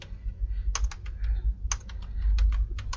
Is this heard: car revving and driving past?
no